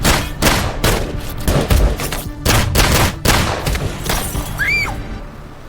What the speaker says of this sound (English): A full shootout breaks out.